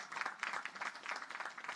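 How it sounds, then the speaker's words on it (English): Audience applause at a naval academy graduation ceremony, a fairly faint, distant patter of many hands clapping in an uneven, fluttering rhythm that continues steadily throughout. "we clap for that guy"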